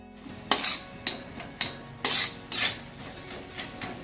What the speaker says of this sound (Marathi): मसाला टाकल्याच्या नंतर काही सेकंद आपण याला फ्राय केलेला आहे